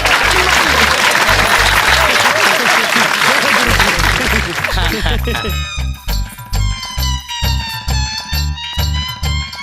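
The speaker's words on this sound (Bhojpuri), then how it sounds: "ताली मारी महाराज, ताली" A crowd claps loudly and densely for a few seconds in a film scene, then the applause gives way to rhythmic music with a thumping beat.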